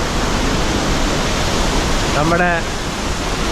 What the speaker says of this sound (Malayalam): അതിരപ്പള്ളി വാട്ടർഫോളിൻ്റെ താഴത്ത് എത്തിയിട്ടിരിക്കുകയാണ്